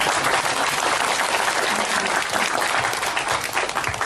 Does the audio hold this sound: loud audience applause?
yes